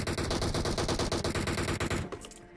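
Rapid automatic gunfire from PUBG Mobile roars in a loud, unbroken burst of tightly spaced shots for about two seconds, then cuts off abruptly and leaves only a fading tail.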